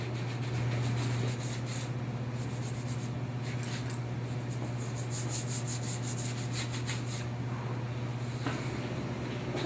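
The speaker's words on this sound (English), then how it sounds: "Going to give the surface a quick rub, help smooth out the oils that we put on there with the bone." A bone tool is rubbed over a cordovan leather surface that has been oiled, giving a soft, continuous scraping and rubbing close by over a low steady hum.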